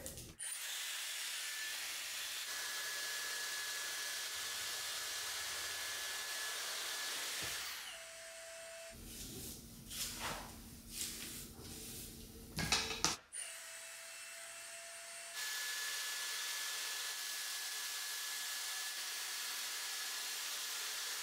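A hair dryer blows steadily on hair with extensions, a continuous broadband whoosh. It briefly shifts tone and sputters as the setting or position changes, then returns to the same steady roar. There is no talking.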